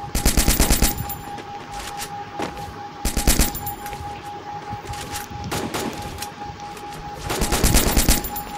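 Mini Uzi gunfire in the shooting game Free Fire, rapid automatic bursts repeating every few seconds, loud and close over a steady game tone and background noise, with no talking.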